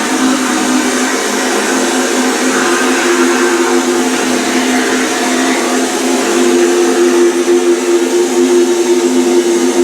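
A VapourMax Pro 750 vapour blasting machine runs with a loud, continuous, steady whine and rushing air hiss, holding close and even for the whole stretch with no talking.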